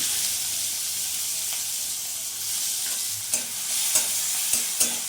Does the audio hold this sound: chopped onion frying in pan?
yes